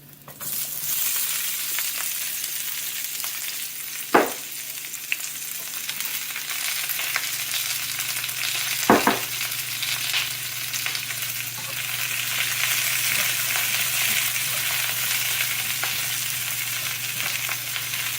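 Grunt fish fry in hot oil with a continuous, even sizzling hiss, a low steady hum beneath and two brief clanks partway through.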